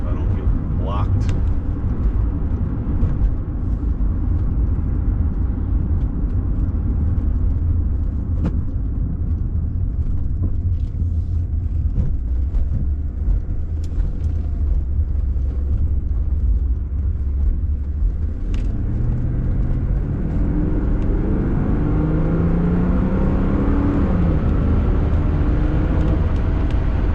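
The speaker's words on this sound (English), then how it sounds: "Do a little bit of acceleration in it if I don't get blocked." A 1979 Mercedes-Benz 450 SEL 6.9 accelerating on a highway, heard from inside the car as a steady low engine rumble and road roar that builds into a rising engine note near the end.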